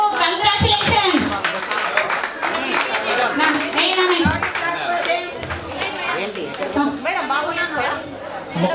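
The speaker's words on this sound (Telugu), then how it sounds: "కొన్ని క్లాప్స్ కొట్టడము" An audience claps at a pre-primary school annual day celebration, with bursts of hand clapping mixed with crowd chatter and children's voices close by.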